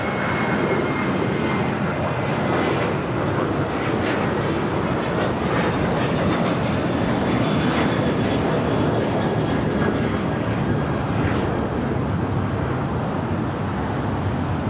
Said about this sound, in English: That flight taking off was American Airlines Flight 3175 heading to SFO